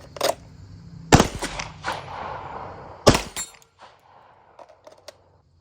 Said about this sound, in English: Not half bad, and I hit the steel right there on the center bolt.